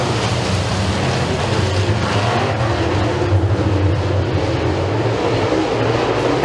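Race cars roaring around the oval at Eriez Speedway during a heat race, a continuous loud wash of engine noise with a steady low rumble and no clear breaks.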